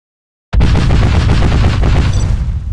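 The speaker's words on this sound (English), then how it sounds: "Our miniguns will destroy the enemy." Sustained minigun fire from a Command & Conquer unit, a loud continuous rattling burst that begins abruptly after a brief silence and runs without pause to the end.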